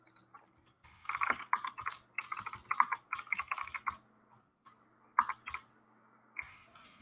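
Typing on a computer keyboard: quick bursts of clicking keystrokes, close and fairly faint, with short pauses between runs and no talking.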